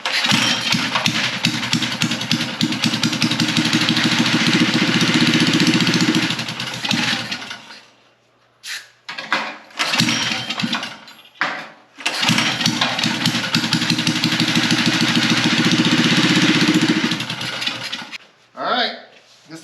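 A small engine on a homemade barstool racer with no air cleaner, running rough on bad gas: it roars loud and close, cuts out, sputters in short bursts, then catches and runs again before dying.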